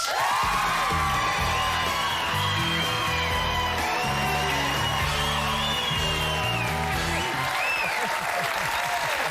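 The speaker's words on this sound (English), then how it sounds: "Please clap loudly enough to help him get over his jet lag." A television studio audience claps and cheers loudly for Antonio Banderas, a thick roar of applause with whoops and yells and music playing underneath, continuous for about nine seconds.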